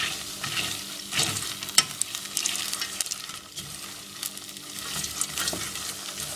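Popcorn cooks in a pot and pops in scattered sharp bursts with sizzling and stirring, the popping slowing as it nears done. No one speaks.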